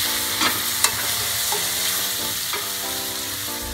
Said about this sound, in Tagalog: haluin ulit natin ito ng haluin